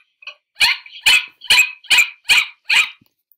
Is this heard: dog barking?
yes